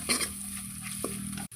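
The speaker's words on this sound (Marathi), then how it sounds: "खोबऱ्याचं आणि लसणाचं वाटण बारीक करून घेतलेलं आहे ते मिक्स हे भाजून घेऊया त्यात" Ground coconut and garlic paste frying in oil with cumin seeds for an egg curry, a brief close, even sizzle with a light stirring scrape near the end.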